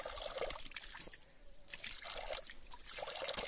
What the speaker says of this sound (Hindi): ये ऊपर से आता है पानी, पता नहीं कहाँ से आता है, बिल्कुल साफ एकदम।